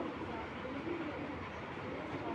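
Pigeons coo softly amid steady background noise; the bird is a female racing pigeon, a 2023 bird, in a pigeon loft.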